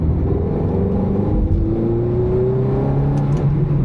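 A Ferrari F430 accelerates hard from under 30 mph on a road with a 50 mph limit, its engine note climbing steadily in pitch as it revs up, loud and close from inside the cabin with no talking.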